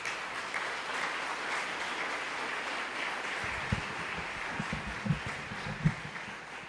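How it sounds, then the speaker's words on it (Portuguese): A church congregation gives a round of applause at a 2011 theological week gathering in Niterói, Brazil. The dense, fairly soft clapping runs throughout, with a few louder nearby claps toward the end. "eu gostaria que a igreja o saudasse com uma salva de palmas"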